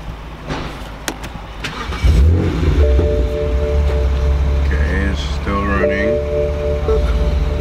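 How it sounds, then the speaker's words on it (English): A car engine is started and runs loud and steady with the fuel pump unplugged, idling until the fuel system is purged and the engine stalls; speech is heard over the running engine. "now I'm going to start the car with it unplugged, so that way we could purge the fuel system"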